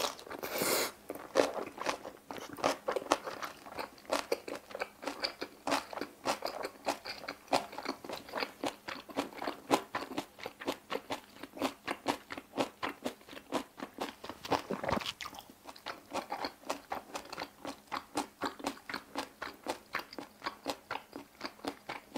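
Crunchy kimjang kimchi eaten with bossam boiled pork, loud close crunching and chewing in a steady rhythm of bites, with no talking.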